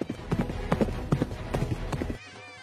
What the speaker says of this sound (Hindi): घोड़ा घोड़ा दूल्हा लेके भाग गया।